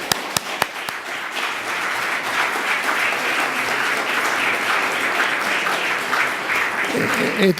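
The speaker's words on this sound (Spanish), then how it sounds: "Que así un aplauso para la gente." Sustained audience applause fills the room at a formal session of an auditors' council, with sharp individual claps at the start and voices murmuring underneath toward the end.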